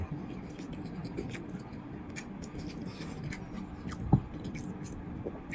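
Close, quiet chewing of hot rice with egg bhuna: soft, wet, continuous mouth sounds with a single sharper click midway.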